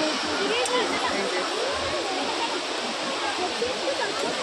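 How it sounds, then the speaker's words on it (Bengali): Dassam Falls pouring down forcefully, a steady loud roar of rushing water, dense and unbroken, with a crowd of visitors nearby. "এটা হচ্ছে দশম ওয়াটারফল।"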